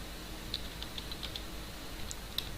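Someone types on a computer keyboard while coding, giving a handful of light, close key clicks scattered at an uneven pace over a quiet room hum, with no speech.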